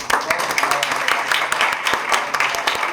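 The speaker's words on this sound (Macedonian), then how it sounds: "и еден аплауз за библиотеката" Steady audience applause, dense and continuous clapping from a crowd, with voices mixed in.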